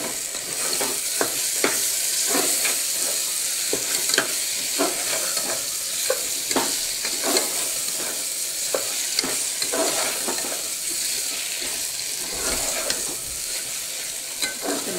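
Tomatoes fry in hot oil while being stirred for a chicken masala gravy, giving a steady close sizzle with repeated scraping stir strokes throughout and no talking.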